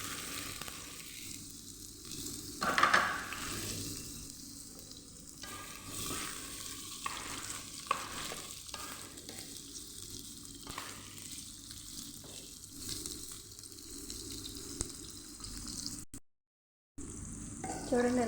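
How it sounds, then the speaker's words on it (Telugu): Bitter gourd pieces fry in hot oil in a pan with a steady close crackling sizzle, stirred now and then with a few scraping knocks, until a brief break near the end. "ఆయిల్ కొద్దిగా వేడెక్కిన తర్వాత ఈ కాకరకాయలు అందులో వేసుకొని బాగా వేయించుకున్నాము."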